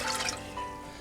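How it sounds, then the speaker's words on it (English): Two cups of water poured into a cooking pot for macaroni and cheese, a short burst of bright, splashing liquid heard up close with no talk. "So we are going to pour two cups of water."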